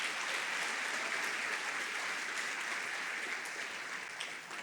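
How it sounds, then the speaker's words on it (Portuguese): Church congregation applauding loudly during a sermon, a dense, even roar of many hands clapping that sounds somewhat distant and holds steady for several seconds. "aplauda muito forte o nome de Jesus"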